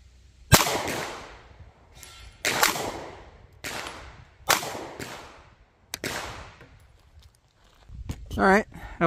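Ruger LCP Max pistol fitted with a Galloway guide rod and 13-pound recoil spring fires several sharp, widely spaced shots at an outdoor range, with a voice speaking briefly near the end.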